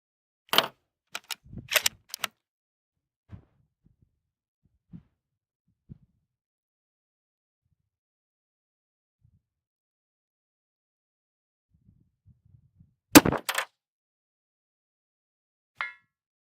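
Handloaded rifle rounds using Varget powder and CCI primers fired at a 700-yard target, a few sharp, loud isolated cracks separated by long near-silent gaps, with faint distant echoes after them.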